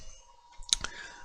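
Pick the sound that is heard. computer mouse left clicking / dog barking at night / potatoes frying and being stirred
computer mouse left clicking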